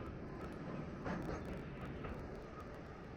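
A train in the VR game Into The Radius rolls along with a steady, quiet rumble and faint rattling. There is a slightly louder clatter around the middle, and no one speaks.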